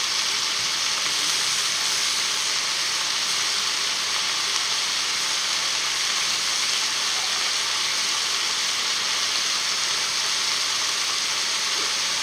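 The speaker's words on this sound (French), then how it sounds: "On laisse mijoter tranquillement." Squid basquaise simmering in a pan gives off a steady, even sizzle and hiss that holds at a constant level throughout, with no voices.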